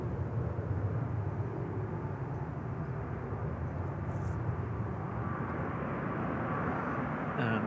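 A Ryanair Boeing 737-800 rolls out after landing at Manchester Airport, a constant broad engine roar at middle distance that holds steady throughout with no talk over it.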